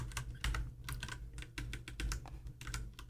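Code is typed on a computer keyboard, with quick, close key clacks in an uneven rhythm over a low background hum.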